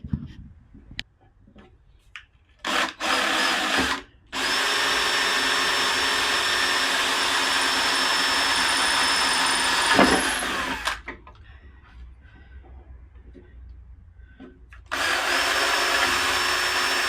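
A power tool bolts a wooden platform onto a homemade engine mover. It whirs in several bursts, with one long run in the middle and short stops between them.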